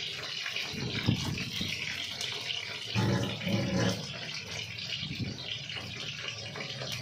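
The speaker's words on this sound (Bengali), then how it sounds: "কালকে হাতটা ধুয়ে নিই" Tap water runs and splashes as hands are washed under it, a continuous close gush that swells and shifts as the hands move through the stream, with no talk.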